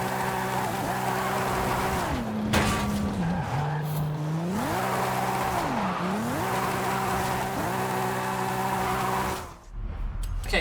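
A fully upgraded 1200HP Toyota Chaser GT twin turbo in Forza Horizon 5 revs hard, its engine pitch climbing and dropping through gear changes, with tire squeal and skidding over a steady roar, no talking.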